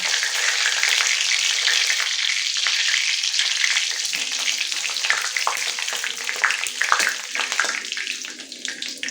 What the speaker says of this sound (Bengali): আমি এখানে 3টে শুকনো লঙ্কা ফোড়ন দিচ্ছি